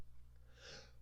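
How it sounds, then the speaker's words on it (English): A single sneeze bursts out mid-sentence during a casual podcast recording, a short breathy snort close to the mic over a steady low hum. "I felt the sneeze coming on"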